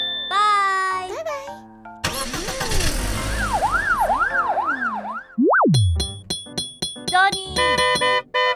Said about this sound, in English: the siren seems to be back to normal too